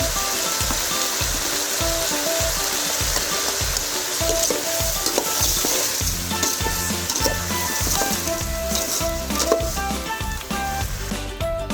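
Vegetables sizzle in hot oil in a pan for Chettinad sambar, a continuous loud frying hiss broken by repeated scraping stirs.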